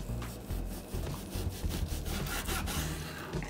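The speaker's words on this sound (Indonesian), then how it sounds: "Potong biar ni haluskan dia." A knife saws back and forth through smoked beef cut into thin slices, giving a steady series of close, rough rubbing strokes, each lasting about half a second, with no speech.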